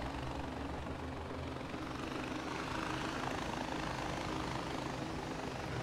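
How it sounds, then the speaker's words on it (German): Helicopter in the video game Far Cry 4, a continuous loud rotor chop and engine drone holding steady and close for the whole stretch, with no voices. "kann ich mit so einem Hubschrauber einfach mal einen Glockenturm hochrödeln?"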